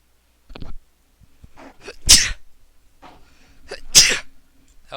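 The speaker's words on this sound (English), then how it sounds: "If you guys could hear me sneeze there." A person sneezes twice, each burst sharp, loud and close, with softer breathy sounds and a faint earlier sniff or grunt in between, set against a quiet room.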